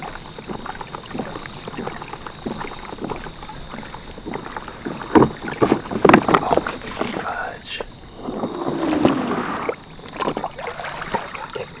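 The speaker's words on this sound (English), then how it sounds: "It's a mile paddle in the dark." A kayak is paddled across water in the dark, with soft splashes and drips, a few sharper knocks against the hull and some wind noise on the microphone, continuing steadily throughout.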